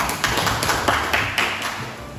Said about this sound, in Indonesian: Tepuk tangan untuk Zainal.